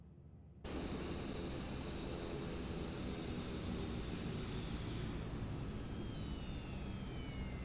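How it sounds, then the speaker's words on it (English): A Piaggio P180 Avanti twin-engine aircraft in Microsoft Flight Simulator 2024 kicks in suddenly with a loud, steady engine roar, while thin high whines glide slowly downward as the engines spool. "I meant to turn off the engines"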